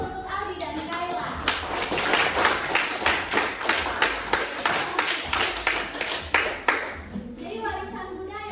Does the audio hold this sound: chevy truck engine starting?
no